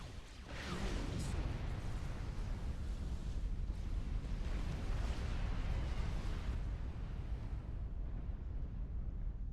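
A Shade unit explodes in the real-time strategy game Supreme Commander 2, a heavy, rumbling boom that swells within the first second and rolls on as a sustained low roar for several seconds before easing off, with no voices over it.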